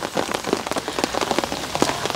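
Autumn rain falls steadily on a garden, a dense patter of drops hitting leaves and surfaces close by with no voices.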